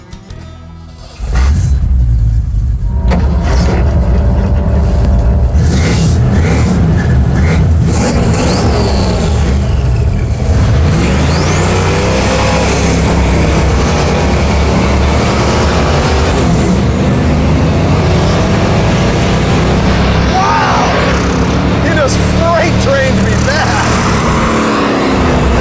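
A junkyard turbo 5.0-liter Ford V8 with Cobra intake and BBK throttle body roars as it accelerates hard in a racing run, loud rising revs sweeping up over many seconds with turbo whistle and gear changes.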